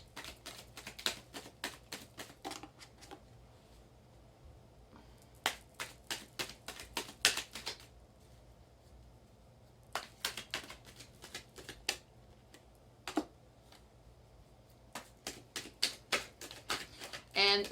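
Tarot cards being shuffled, with bursts of rapid crisp flicking and tapping separated by short pauses, close and quiet against a faint background hum.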